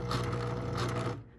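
A sewing machine stitches a fabric memory ornament: a close, rapid mechanical whir with a fast, regular needle rhythm that runs steadily, then stops abruptly.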